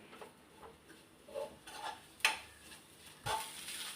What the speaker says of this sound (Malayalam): ഒന്നും കൂടെ ഒന്ന് നമുക്ക് ഇതിനകത്തിട്ടൊന്ന് വഴറ്റി നല്ലൊന്ന് പൊരിച്ചെടുക്കാം